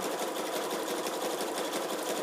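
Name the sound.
sewing machine zigzag stitching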